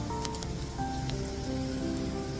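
Heavy rain at night, a steady close patter and hiss of drops on surfaces, continuous and even with faint tonal hum beneath, no voices.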